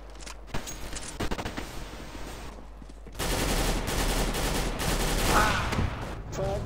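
Automatic Galil AR fire in a Counter-Strike: Global Offensive deathmatch, with dense bursts of shots and clatter that grow louder and fuller partway through.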